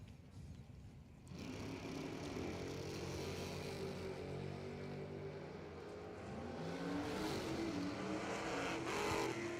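Race cars roar at an amateur drag racing event, engine noise rising and sustaining as they accelerate down the strip, heard from a distance as a broad continuous drone with no talk.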